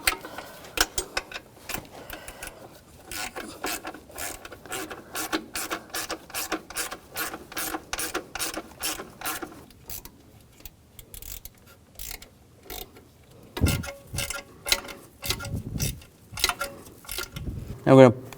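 Ratchet wrench tightening engine mount bolts on a 2014-2018 GMC Sierra 5.3L V8, a fast run of close clicking strokes, then a pause and scattered slower clicks and metal knocks.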